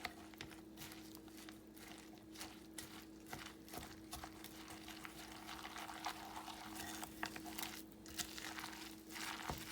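Cabbage okonomiyaki batter with egg and a little water is stirred in a bowl, giving soft, uneven wet clicks and slaps over a faint steady hum, quiet and close.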